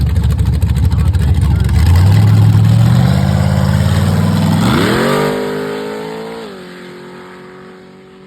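A drag car launches and roars down a 300-foot sand drag strip at Atoka Motorsports Park with a passenger aboard, its loud engine revving up through rising gears near the listener before easing off as it runs away.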